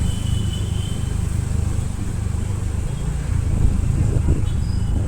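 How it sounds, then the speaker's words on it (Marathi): Heavy evening road traffic at the crowded local market in Mapusa, Goa, forms a continuous low engine rumble with a swell of passing vehicles, close and fairly loud, with faint voices mixed in. "भरपूर सामकें ट्रॅफिक."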